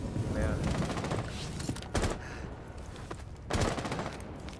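Gunfire in the tactical shooter Rainbow Six Siege comes as a few sharp bursts of shots over a dense, noisy game mix. A player's voice is heard alongside.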